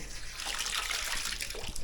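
Steady running water pours continuously, a broad even hiss that fills the whole clip at close range with no talking.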